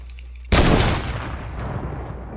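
Video game gunfire on a PS4 opens with a sudden loud burst of rapid shots, then lingers as a rumbling, crackling wash of fire and echo that stays fairly strong to the end.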